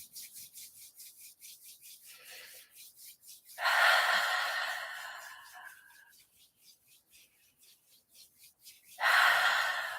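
Palms rub together in a steady, rhythmic swish during a breathing meditation, with two long, loud, deep breaths standing out clearly against the quiet, close and intimate.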